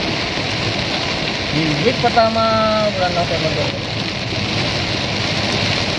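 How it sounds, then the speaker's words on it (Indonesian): Heavy rain pours steadily at seven in the morning on Raya Juanda, a dense broadband hiss throughout, while someone talks over it and a brief passing tone sweeps through mid-clip. "Saat ini suasananya hujan lebat. Hujan deras."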